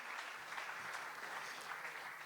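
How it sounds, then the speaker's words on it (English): Steady applause from a crowd, a continuous wash of clapping that holds at an even level throughout. "give this guy a round of applause"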